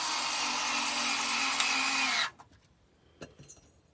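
Cordless power drill driving screws into brackets on a footstool built from a Coke crate; a steady, loud motor whir runs for about two seconds, then stops abruptly, followed by a few faint clicks.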